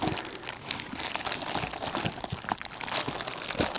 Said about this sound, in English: as you're cutting through the bag, you're getting a bit of excess plastic